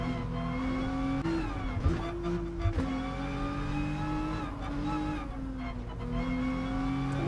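Race car engine in the GT Sport video game on Willow Springs International Raceway's Horse Thief Mile, droning steadily at three-quarter throttle with shifting pitch and brief tire squeals, loud and continuous.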